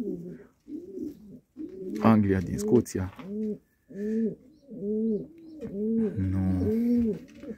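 Pigeons in a breeder's loft coo steadily in close, rhythmic rolling phrases, one after another, while someone talks briefly partway through.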